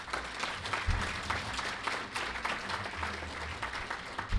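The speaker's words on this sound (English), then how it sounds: "Some round of applause from them." An evening lecture audience applauds, a dense, even wash of many hands clapping at moderate distance for several seconds without pause, no one speaking over it.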